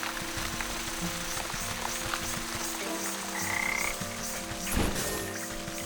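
Frogs croak steadily in murky swampland in Wytchwood, a dense chorus of rapid, overlapping croaks under layered ambient music, with a louder thump-like burst near the end.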